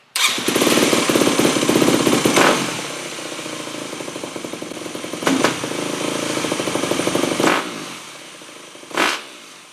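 A Yamaha WR250F dirt bike engine sits at a low, rich-running idle with an uneven beat, then bogs on throttle blips in a few short surges that sag rather than rev freely. It is close and loud, and nobody talks.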